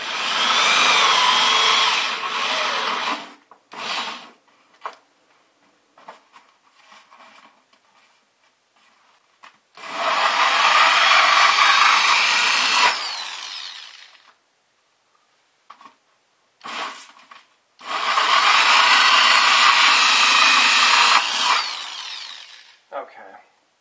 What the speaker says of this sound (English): now I'm going to drill through the liner